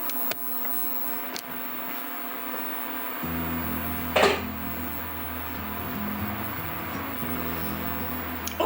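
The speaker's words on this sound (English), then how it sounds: "It's this cooktop, this induction cooktop. It makes that sound." A low electrical buzz from an induction cooktop heating a pot of polenta kicks in after a few seconds and pulses steadily, with a single clatter partway through.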